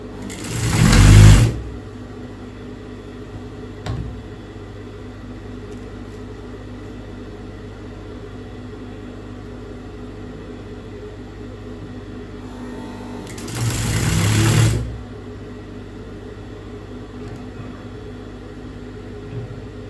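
A sewing machine stitches piping along a marked line on the right side of the fabric, running in two short bursts separated by a long quiet stretch with a low steady hum, close by.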